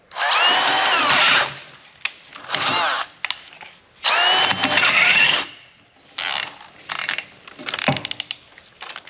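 Power drill boring through a steel truck frame rail, loud grinding bursts in repeated pulses of a second or two with short pauses and clicks between them.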